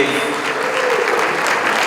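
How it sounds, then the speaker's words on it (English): An audience at a foundation's 25th anniversary event applauds loudly, a dense, continuous roar of clapping close by, with voices mixed in underneath. "Big round of applause for him"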